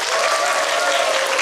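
Dense, continuous applause from an audience at a traditional Balinese Gong drama performance, loud and sustained without pause.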